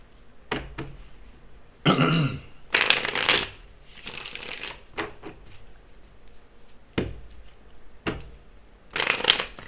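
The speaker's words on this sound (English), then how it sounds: "Give it another shuffle here." Tarot cards are shuffled in several brisk riffling bursts, close and fairly loud, separated by short quiet gaps and a few soft taps.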